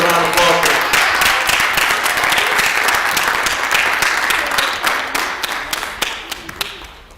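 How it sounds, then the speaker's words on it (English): A crowd at a gospel music event applauds a children's performing group, dense steady clapping filling the room loudly before thinning out toward the end. "Let's give them a round of applause."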